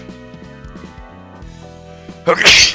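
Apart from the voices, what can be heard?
sneeze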